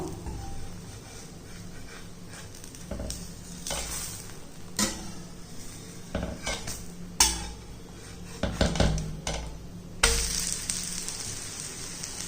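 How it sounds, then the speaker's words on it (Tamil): A weight-loss dosa lifted and flipped on a hot pan, with soft sizzling, scattered metal spatula scrapes and clinks against the pan, and a louder burst of sizzle near the end. "இப்போ இதை வந்து நம்ம பிரட்டி போட்டுக்கிடுவோம். மெதுவாக அப்படி எடுத்து விடணும்."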